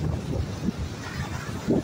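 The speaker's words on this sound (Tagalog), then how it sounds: "Malakas na rin ang hangin." Steady strong wind rushing and buffeting against the microphone by the sea on Jeju Island, South Korea, a continuous low roar with occasional gusts, no talking.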